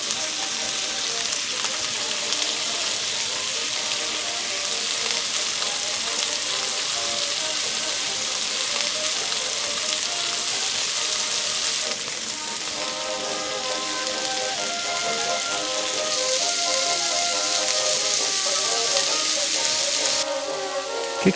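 Skewers brushed with sauce sizzle and crackle steadily on the grill, a dense, even frying hiss that continues without pause.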